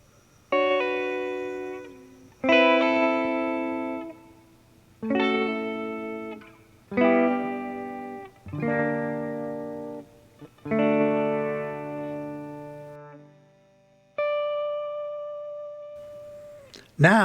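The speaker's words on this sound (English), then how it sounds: "Now the same amp with the amp's reverb turned on." Strummed electric guitar chords played through an amp with reverb, each hit ringing into a wash of tail, repeated several times, ending on a sustained chord.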